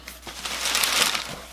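Packing paper crinkles inside a Jordan 6 Gatorade sneaker box, a short burst of crumpling that swells and fades over a moment with a faint tap at the start.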